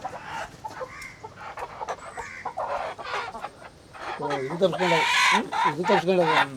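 Chickens cluck and squawk nearby in short bursts at a village sacrifice ritual, with people talking around them and a louder cackling stretch toward the end.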